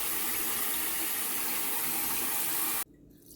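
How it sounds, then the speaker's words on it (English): Water pours steadily into a slow cooker, a loud continuous gushing splash that stops abruptly near the end, leaving quiet room tone. "I'm adding some water."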